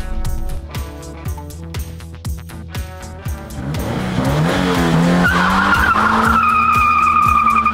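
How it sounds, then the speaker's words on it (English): A Subaru BRZ sports car drives a damp English hill climb in Yorkshire, its engine revving through repeated gear changes, then rising to a sustained loud roar with tire squeal in the final seconds. "test the Subaru BRZ on a hill climb, a right proper English hill climb"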